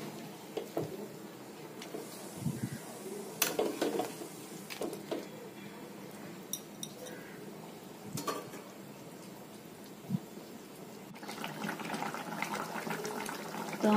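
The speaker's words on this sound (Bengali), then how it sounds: "আমাদের ঝোলটা ফুটে উঠেছে, তো কিছুক্ষণ এটাকে ফোটাতে হবে" Bengali chicken curry gravy with potatoes boils in a pot, giving irregular soft bubbling pops and watery patter, quiet and close, with a fuller burst of bubbling toward the end.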